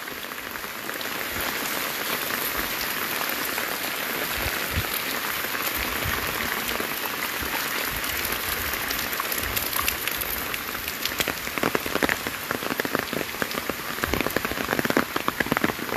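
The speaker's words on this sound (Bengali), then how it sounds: "এখন একেবারে ঝুম বৃষ্টি চলছে।" Heavy downpour on a waterlogged street in Noapara makes a dense, constant hiss with splashing patter that swells slightly toward the end, loud and close, with no voices.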